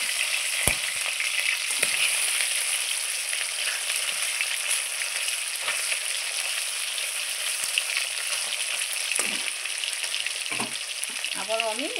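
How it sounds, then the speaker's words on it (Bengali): Tengra fish fries in hot oil in a pan, a steady loud sizzle running throughout with occasional sharp pops and spatters. "আমার মাছটা এক পিসটা কত সুন্দর করে ভাজা হয়ে গেছে"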